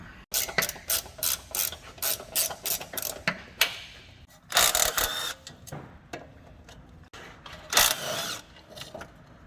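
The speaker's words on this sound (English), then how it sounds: "undo the ball joint here on the top arm. It's just these 3 bolts and that'll just pop down, and then undo these 2 back bolts" A ratchet wrench undoes the bolts on the top suspension arm and ball joint of a Mitsubishi Pajero, giving repeated close bursts of quick clicking with short pauses between strokes.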